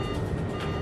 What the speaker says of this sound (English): its onboard traffic collision avoidance system,